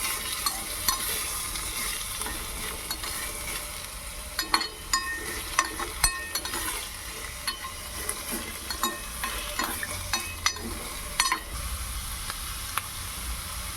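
Vegetables fry in a pan for an aloo kurma with a continuous light sizzle and irregular clinks and scrapes of a stirring utensil, close up, no voices.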